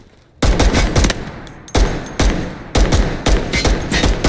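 Loud rapid gunfire in the video game Delta Force, several close bursts of automatic shots with booming low thumps, separated by brief pauses.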